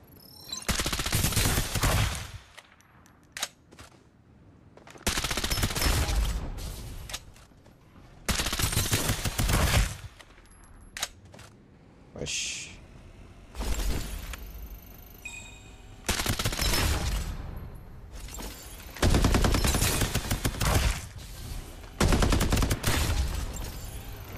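Repeated bursts of rapid automatic gunfire in the video game Farlight 84, long volleys separated by short pauses, loud and close, with scattered single shots between.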